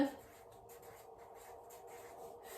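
Writing on paper: a soft, close scratching of a pen or pencil in short strokes with small pauses, faint and steady, with no voices.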